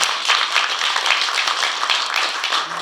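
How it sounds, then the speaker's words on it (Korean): An audience at a Korean book launch for a novel applauds with a dense, even wash of clapping that holds steady for a few seconds at moderate distance. "우리 다 함께 큰 박수로 축하를"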